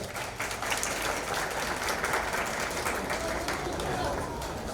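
A crowd at a political campaign rally in Denizli applauds as a mayoral candidate is invited to the stage, a dense, steady roar of clapping that fills the whole stretch, with voices mixed in.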